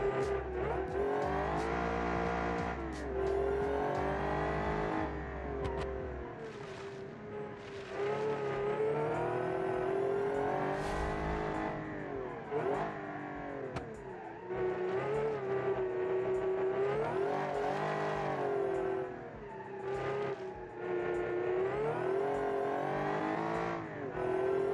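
A supercharged 1970 Italian car engine revs hard and continuously, its rising and falling harmonic whine close and loud, with repeated surges and a brief low rumble at the start.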